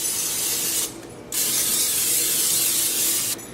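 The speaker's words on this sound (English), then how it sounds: "I want to spray the bottom of this pan" Cooking spray hisses onto the bottom of a pan in a close, steady burst, breaks off briefly, then resumes in a second long spray that stops near the end.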